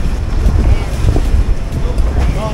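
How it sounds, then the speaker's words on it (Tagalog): A longtail boat on a canal rocks on choppy water, with waves slapping and wind buffeting the microphone in a loud, rough wash. "Medyo malakas ang alon"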